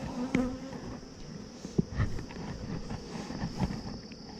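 Honey bees buzz at an opened hive during an 8-to-10-frame move and split in Texas, a soft continuous hum with occasional louder passes of nearby bees and light handling knocks.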